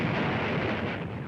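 A single heavy gunshot in WWII combat footage from the ruins of Bizerte booms as a loud, broad blast that rumbles on briefly, with no talk over it.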